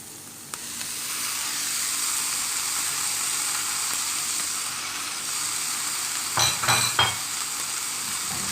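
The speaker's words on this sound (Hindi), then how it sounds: "और अब हम लोग इसके अंदर बॉइल्ड चावल डाल देंगे।" Boiled rice frying in a hot pan for egg fried rice, a steady sizzle throughout with a few louder stirring scrapes near the end.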